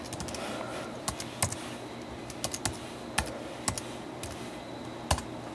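Soft, sparse keystrokes on a 2011 21.5-inch iMac keyboard tap out a login, a dozen or so separate clicks at an irregular pace over a faint room hum.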